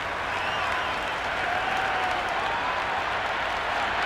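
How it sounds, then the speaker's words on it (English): A raucous crowd at a Big Bash League cricket match roars and claps in a steady, dense wash of cheering that holds at full strength throughout, with no break or single standout voice. "The crowd are really getting quite raucous."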